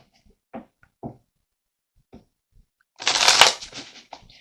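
Tarot cards shuffled by hand in a quiet room, a dense riffling burst lasting about a second and a half after a few faint soft taps and handling noises.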